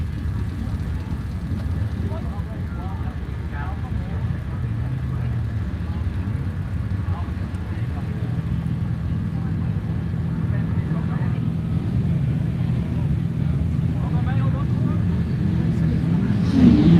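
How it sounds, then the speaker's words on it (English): Five Class 3 rally cars roaring off the start line at a wet Border Counties stage, a steady dense engine drone building slightly over the stretch, heard from a distance. "5 cars blast away"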